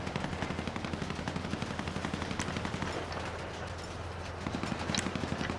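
Rapid rhythmic bursts of gunfire in Grand Theft Auto roleplay, a steady rattling stream of shots at moderate distance, fairly quiet and continuous with a brief lull midway.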